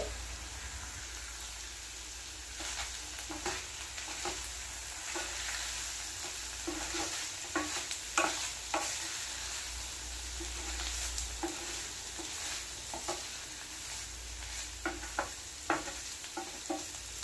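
Sautéed paneer cubes stirred into cooked vegetables in a hot pan for paneer fried rice, a steady close sizzle with scattered scraping clicks of a spatula throughout.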